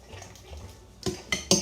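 A spoon drops yogurt into a bowl of chocolate mousse, giving three short, close metallic clinks against the bowl near the end after a quiet start.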